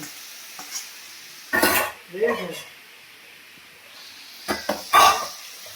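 Boiled vegetables go into a pan on a home stove and are stirred, with a few scraping, clattering bursts separated by quiet stretches and a faint sizzle underneath.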